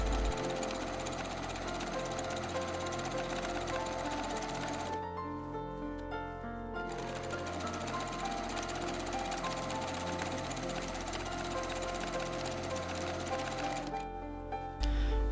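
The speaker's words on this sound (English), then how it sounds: "top stitch the waistband with a zigzag stitch" A sewing machine runs a zigzag top-stitch along a sweatpants waistband, a steady close mechanical whir with rapid rhythmic needle chatter that pauses briefly twice.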